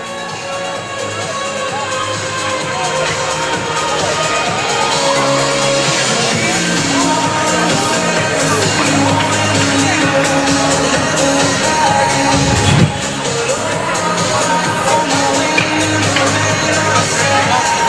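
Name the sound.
enthusiastic crowd at a hockey game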